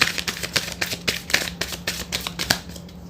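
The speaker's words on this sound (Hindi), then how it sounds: "एक कार्ड और ले लेते हैं।" Tarot cards being shuffled at close range, a rapid run of crisp papery riffles and soft slaps repeating steadily for about three seconds with no talk.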